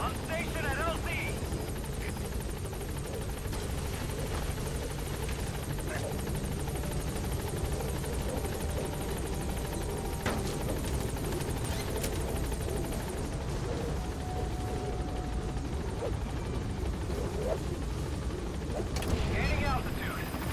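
Helicopter rotor and engine noise from the Pequod arriving and holding at a landing zone in Metal Gear Solid V: The Phantom Pain, a steady dense roar running throughout with voices over it.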